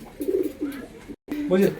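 A pair of makchi-coloured racer pigeons coo close by in soft rolling bursts, broken by a brief silent gap, while someone talks over them.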